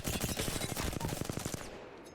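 Automatic gunfire in the video game Apex Legends: one rapid, evenly spaced burst of shots emptying a full magazine, fairly faint, ending abruptly and leaving a short quiet tail.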